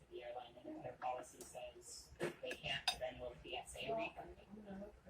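Knife and fork scraping and clinking against a plate while cutting a small piece of homemade country fried steak, close and fairly quiet, with someone talking over the cutlery sounds.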